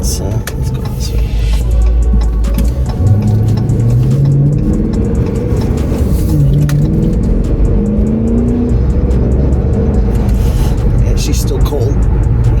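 A 2022 Honda Grom motorcycle's small engine revs up and down repeatedly while riding, loud and close with wind buffeting throughout.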